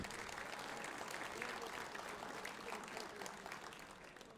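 Continuous applause from a concert audience, a dense even clatter of many hands clapping at steady loudness throughout.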